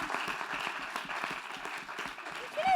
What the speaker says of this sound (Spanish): Ulises, un aplauso.